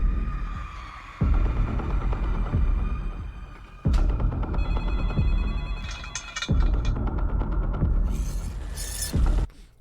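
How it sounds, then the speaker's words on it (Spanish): Telephone rings in repeated bursts with short gaps between them, loud and close, with bright high-pitched ringing tones layered over a low rumble and no talking. "Ahorita que escuché el tiqui tiqui tiqui tiqui del teléfono"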